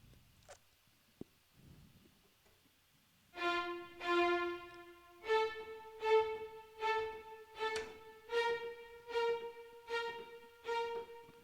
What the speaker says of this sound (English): The marcato sounds like this.